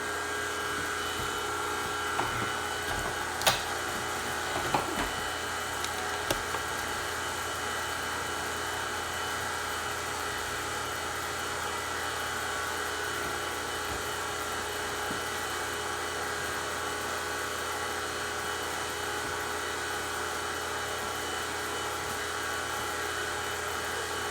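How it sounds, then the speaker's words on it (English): A vacuum pump runs with a steady, even mechanical whine and hum throughout, alongside a 12 CFM unit, with a few faint clicks early on and no talk. "because we have a vacuum pump here, where before we did not"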